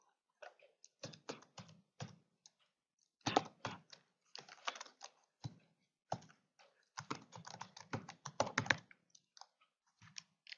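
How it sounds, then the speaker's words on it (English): An email address typed on a computer keyboard, with quiet, close key clicks arriving in irregular bursts and short pauses, alone in a silent room. "type your email address in the Email To box"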